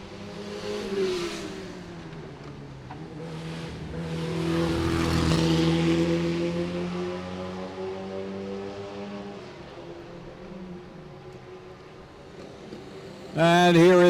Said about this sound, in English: here is the red Lotus 7, car 37 of George Vappa.